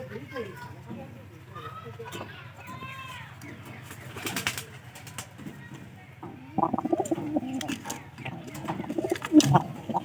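A white pigeon coos in soft repeated close calls, with someone talking over and around it and a few scuffs and flutters later on.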